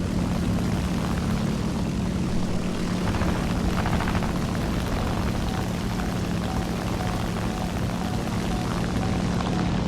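Real aircraft passing over from a nearby airbase, a steady, loud, unbroken engine drone with no pauses across the whole stretch.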